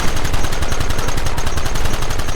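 Dense rapid gunfire from a Red Dead Redemption battle, a loud continuous barrage of overlapping shots and rattling bursts filling the whole moment with no pause.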